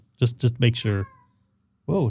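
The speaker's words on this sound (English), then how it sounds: "That was a cat." A cat meows in a quick run of four short calls, fairly close and clear, followed after a pause by a person speaking.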